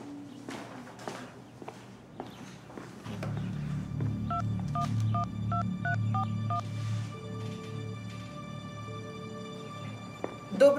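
A phone number is dialed as a row of short keypad tones, evenly spaced beeps over a low background hum, preceded by scattered footsteps.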